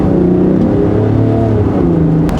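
A Land Rover Defender 90 D250 with a 3.0-litre inline six-cylinder diesel accelerating in comfort mode, heard from the cabin as a loud, steady engine drone with rising harmonic tones throughout.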